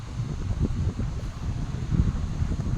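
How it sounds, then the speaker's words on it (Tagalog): Strong wind at a beach buffets the microphone in a steady low roar with gusty surges, no voices heard. "Malakas ang hangin."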